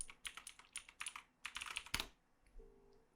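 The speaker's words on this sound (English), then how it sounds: "or by typing a number" Rapid keystrokes on a computer keyboard entering a number in a phone web client, a quick close run of clicks that stops after about two seconds, leaving near silence.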